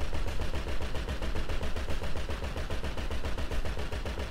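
Sustained automatic gunfire in GTA 5 Online during an island firefight, a rapid, evenly spaced stream of loud shots running nonstop at high volume.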